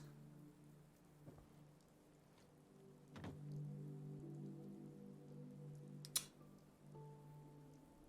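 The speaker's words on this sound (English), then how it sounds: "Oh, it is raining! And it's nice rain, not radiated rain." Rain falls in the video game Fallout 4, a soft steady patter of drops under a low hum, with a few brief clicks and knocks along the way.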